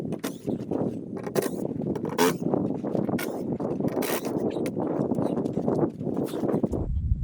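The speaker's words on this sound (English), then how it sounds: "give me a drill, take the screws out. Trusty Ryobi" A Ryobi cordless drill, left three months in a remote Alaska cabin, backing out screws in several short, close whirring bursts separated by brief pauses.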